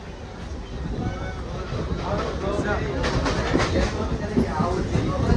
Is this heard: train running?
yes